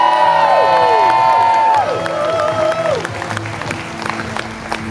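A loud studio audience at The Voice finals cheers and applauds, with whoops and shouts over a few sustained, falling musical tones that fade into the steady crowd roar.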